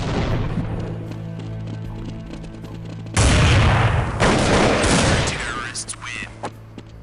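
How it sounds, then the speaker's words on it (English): Counter-Strike 1.6 gunfire from a pistol or sniper rifle: a sudden loud, sharp burst of shots and booming impact partway through, while a voice narrates over the game sound. "multiple enemies are killed with a single shot. This can be done with a pistol, as Edward did, or with a sniper rifle."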